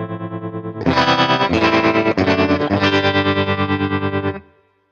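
Sustained electric guitar chords with a steady pulsing tremolo effect from a BOSS Nextone Stage amplifier, loud and processed, ringing out then cutting off.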